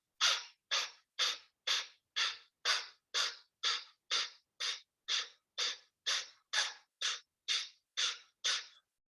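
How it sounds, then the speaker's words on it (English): Fast, forceful abdominal exhalations during a yoga core class, about eighteen sharp breath bursts in a steady even rhythm, close and clear with nothing else heard. "We're trying this pulsing abdominal exhaling exercise to end practice here."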